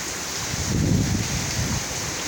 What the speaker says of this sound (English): look at this rain, man. This rain is crazy.